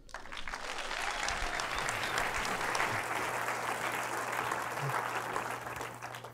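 An audience at a FEAT Canada talk in March 2013 applauds steadily as Simon Whitehead is welcomed, a full, even clapping that holds for several seconds before slowly tapering.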